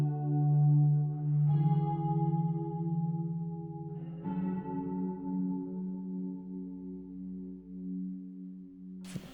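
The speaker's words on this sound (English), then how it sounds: "One of my favorite bits in the song is this electric guitar at the very end," Electric guitar heavily processed with chorus, echo and reverb effects rings out at a song's ending, sustained shimmering notes with a new chord struck midway and a faint sharp click at the close, no voices.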